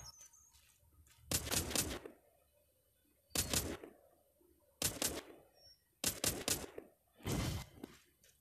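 Gunfire from shooting training in The Walking Zombie 2 game: five loud, sharp bursts spaced at irregular intervals, some doubled or rapid, each ringing briefly over a quiet, faintly humming background.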